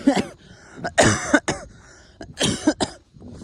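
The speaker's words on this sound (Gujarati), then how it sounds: "મને ખાંસી થઈ ગયેલી છે જોરદાર" Several harsh, hacking coughs from a person with a bad cough burst out close to the microphone in quick clusters, with short pauses between them, outdoors at Kevdi forest near Ukai Dam, Gujarat.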